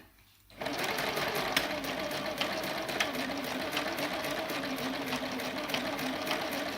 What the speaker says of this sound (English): I'm just sewing around 3 edges. And I'm just using a simple straight stitch.